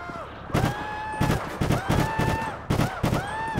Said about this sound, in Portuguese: Nossa, tá tendo troca de tiro ali na frente.